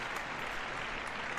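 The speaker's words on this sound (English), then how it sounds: "That was a big round of applause for Miles." A round of applause for Miles during a paranormal and supernatural call-in show: dense, steady clapping that holds evenly for a brief moment, with no voices over it.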